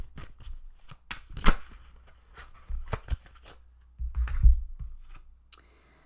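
Oracle cards being shuffled and drawn by hand, a run of close, papery riffles, slaps and flicks of irregular rhythm, with one louder thump of cards set down near the end.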